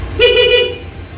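A single short honk from a Honda Click V3 scooter horn sounds loud and close, lasting about half a second before fading.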